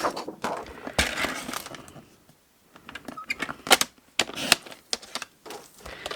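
A trimmer or cutter slices a piece of Whisper White cardstock, with a series of sharp clicks, snips and paper rustles in irregular bursts, a brief quiet gap in the middle, then more quick handling taps close by.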